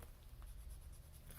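A pencil marks a guide line on paper while lining up washi tape for a collage, giving a quiet, continuous scratchy stroke close by with no talk.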